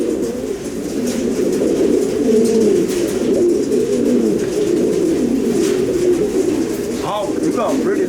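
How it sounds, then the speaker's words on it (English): Pigeons at a fancier's loft in Florida, including white and black birds, coo steadily and softly throughout, a continuous low warbling murmur with someone speaking over it near the end. "Look at these guys, man. They're beautiful birds."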